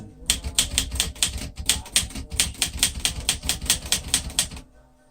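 A 1974 Underwood 315 manual typewriter with cursive typeface being typed on close up, a steady run of sharp, evenly paced key strikes with no one talking.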